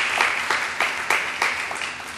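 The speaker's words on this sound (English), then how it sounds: "If we can give them a round of applause," An audience at a fund update meeting applauds, a steady wash of many hands clapping at moderate volume, with faint rhythmic accents running through it.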